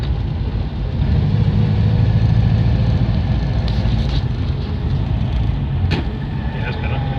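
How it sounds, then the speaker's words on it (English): Steady low engine drone from a Morris Oxford car throughout, a continuous rumbling note that swells slightly as it is revved during a gear change, with a couple of brief clicks near the end. "You got to take the brake clutch off and rev it"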